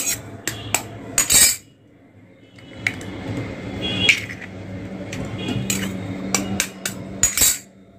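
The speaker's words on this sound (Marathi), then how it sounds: "एक एक वाटीमध्ये असं अंडे फोडायचं आहे" Eggs are cracked one by one into small bowls, making a series of sharp shell taps and ceramic clinks spaced through the clip, close and fairly loud, with kitchen noise between them.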